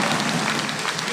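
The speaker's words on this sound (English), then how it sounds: "give Tara a big round of applause here" Conference audience applauding for a named guest, a dense, steady wash of clapping that holds at an even level for about a second.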